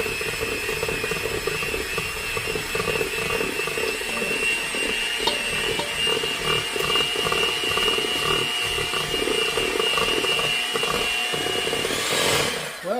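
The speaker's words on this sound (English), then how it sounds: "now we're gonna go ahead and whisk this" Electric mixer whisking ladyfinger batter in a home kitchen, a steady, close, high-pitched motor whine with continuous buzzing for about twelve seconds before it winds down.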